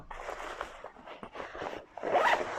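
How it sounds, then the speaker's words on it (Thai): A zipper on an Asymmetric 52+8 bag compartment is pulled in a few rasping, scratchy strokes close to the mic, with the last pull loudest and sharpest. "โดยการรูดซิปตรงนี้นะครับ ทั้งหมดก็จะเป็น ช่องเดียวกันเลยนะครับ"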